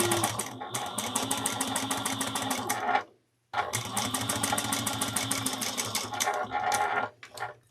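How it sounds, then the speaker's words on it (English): A sewing machine runs a quarter-inch seam, backstitching at the start and end, its needle hammering in a fast, even rattle for about three seconds, breaking off briefly, then running again before easing to a stop. "I'm going to sew using a 1/4 of an inch seam allowance"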